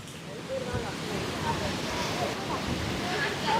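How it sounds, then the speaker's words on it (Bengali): Strong wind buffets the microphone atop Sigiriya Lion Rock in Sri Lanka, a loud, continuous rumbling roar close to the mic with faint gusty whistles. "আর প্রচুর বাতাস,"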